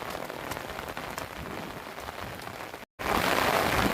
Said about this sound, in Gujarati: લઈ લ્યો આની મોજ વરસાદની.